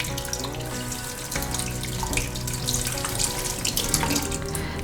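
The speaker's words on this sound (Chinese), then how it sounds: "开小小的水，一面刷一面冲水。" A faucet runs at a low, steady flow while bok choy stems are scrubbed with a small brush under the stream, giving continuous close splashing with faint scraping throughout.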